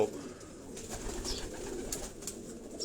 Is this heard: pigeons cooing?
yes